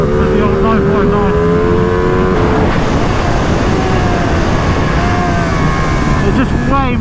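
A 2020 Ducati Panigale V2 revs hard around a track, rising through the gears with steady loud engine pitch, a gear shift near the middle before it pulls again, with talk heard over the engine.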